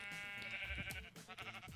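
Sheep bleating in the video game Minecraft, a few short wavering bleats close by, without any talk.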